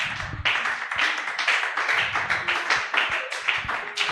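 A church congregation applauding together during a worship service, dense sustained clapping close and loud throughout, with a few faint voices mixed in.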